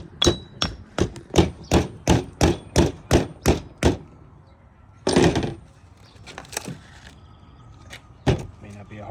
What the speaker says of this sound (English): So take your soft mallet and go on the top.